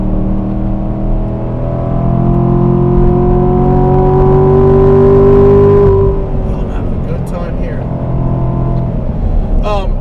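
A 2018 Corvette Grand Sport engine drones loud and close inside the cabin, its pitch climbing steadily before a downshift drops the tone into a rougher rumble, with someone talking over it.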